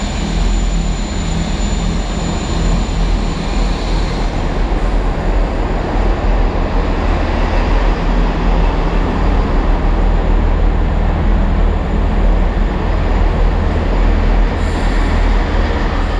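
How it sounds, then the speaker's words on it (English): A Class 165 diesel train arriving at a platform on the Dartmoor Line rumbles steadily and loudly for a long stretch, a broad low roar with faint high squeals, pulling in close with no talking. "here we can take a look at the arrival of my train"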